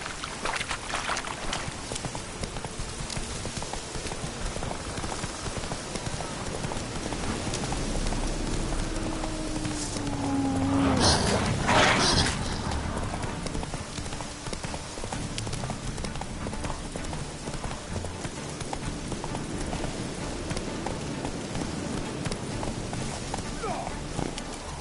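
Roach the horse trotting in The Witcher 3: Hearts of Stone, with steady clip-clop hoofbeats under ambient game sound and a voice talking over it.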